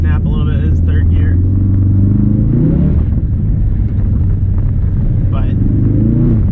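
A Ford Focus RS in track mode on a snowy road pulls hard in third gear with a loud, close engine drone rising in pitch, while someone talks over it.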